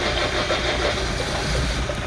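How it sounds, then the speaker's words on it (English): A car engine being started nearby in the background of a garage produces a continuous, loud, rough rumble and hiss throughout, with no clear pauses. "Obviously my brother's trying to start another car up"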